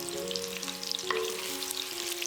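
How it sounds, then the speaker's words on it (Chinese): Ginger slices and scallion stir-fry in hot oil in a wok, with continuous crackling sizzle and light spattering over a soft, steady tonal background. "锅中倒入适量油，油温烧至5成热左右，放入姜片和大葱"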